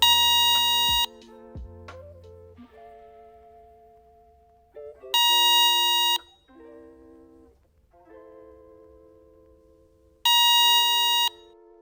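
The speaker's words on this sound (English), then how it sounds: "the iBeam will beep." An infrared beam alarm sounds three loud beep bursts at regular intervals, separated by quieter tonal chimes and brief clicks.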